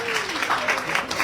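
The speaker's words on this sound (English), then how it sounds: "Give yourself a round of applause." An audience gives a short burst of applause, a dense patter of hand claps filling the moment, with speech faintly underneath.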